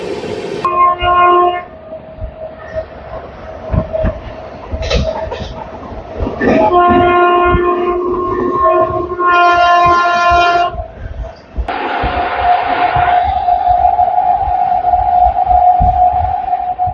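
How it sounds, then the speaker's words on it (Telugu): The MAS–NZM Duronto superfast express races at speed, with a loud continuous rolling roar broken by several long, piercing horn blasts, one held for several seconds near the end. "ట్రైన్ స్పీడ్ అయితే మాత్రం కొడుతున్నాడు"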